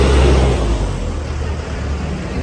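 A bus pulls away on a road near a toll route, its diesel engine a loud, close low rumble that fades a little over the short moment, with no one talking.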